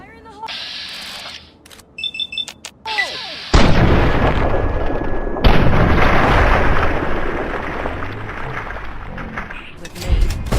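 Grenade explosion and gunfire in the video game Fallout 3: a loud blast bursts in and roars on with heavy rumble and crackling fire, cut off briefly then resuming, after a stretch of game voices and beeps.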